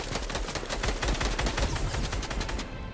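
Rapid, dense gunfire from a video game shootout, a continuous burst of loud automatic shots lasting throughout with no talk over it.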